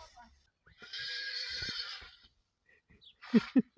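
A pony grazing in a village field gives a long, clear whinny, then a few short snorting bursts; a person speaks briefly nearby.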